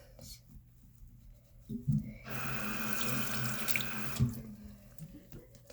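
Water drains noisily from a toilet holding bubbly fidget toys being washed, a rushing, gurgling swell that builds after a few clunks, holds for a couple of seconds, then drops back to a quiet trickle.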